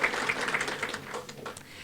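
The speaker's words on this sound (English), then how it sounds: "could we stand up and give them a big round of applause?" A breakfast audience applauds club ambassadors with moderate, steady clapping that continues for about two seconds and tapers slightly toward the end, heard from a middle distance in a large room.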